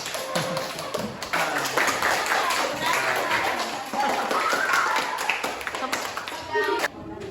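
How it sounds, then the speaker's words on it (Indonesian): A school class claps for a student group during a computational-thinking lesson, with uneven bursts of hand claps and taps mixed with talking voices in the room. "tepuk tangan dulu untuk kelompok 1"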